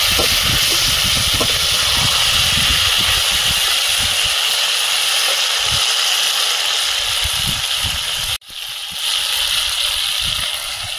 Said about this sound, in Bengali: এখন তেল ছেড়েছে, এবার জল দিয়ে দেবো।